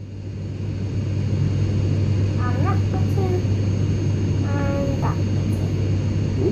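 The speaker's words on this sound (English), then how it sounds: "let's start the engine. I press this button." An airplane engine starts up inside an abandoned aircraft, a steady loud low drone holding throughout while people talk over it.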